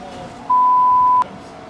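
A steady electronic censor beep lasting under a second cuts in over quiet background sound during Blur racing gameplay, masking a spoken word before the sound drops back.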